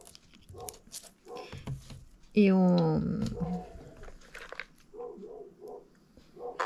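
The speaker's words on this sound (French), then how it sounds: "Le chien du voisin qui aboie encore." A neighbour's dog gives a sharp bark burst that trails into a whine, loud against quiet indoor speech, with talking before and after the bark.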